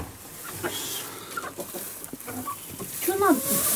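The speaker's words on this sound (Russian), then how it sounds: "Тут у нас курицы живут." Chickens cluck in short, scattered bursts nearby in a village, with a few higher squawks over a quiet background and a voice speaking faintly.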